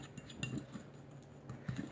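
A metal spoon stirring sugar into a glass of white oil, clinking softly against the glass in a few quiet, irregular taps with a faint hum behind it.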